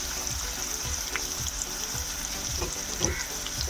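Garlic, crushed shallots and curry leaves sizzle steadily in hot oil in a pan, a continuous close frying hiss with small crackles and occasional stirring scrapes throughout.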